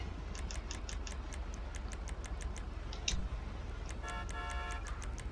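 A car horn in GTA 5 gives a short tonal honk near the end, over quiet engine hum and a run of rapid ticking clicks.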